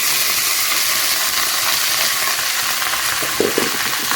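Rice being stirred into a hot pan with fried ajwain and salt, a loud continuous frying hiss with scraping stir strokes, and a few sharper clatters near the end.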